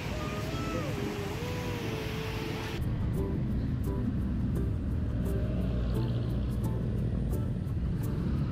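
Road traffic on a route near Tanay heard from a moving motorcycle, a dense low rumble with wind buffeting. The engine whine fades partway and steady traffic drone carries on.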